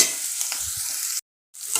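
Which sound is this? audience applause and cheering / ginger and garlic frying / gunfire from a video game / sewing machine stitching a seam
ginger and garlic frying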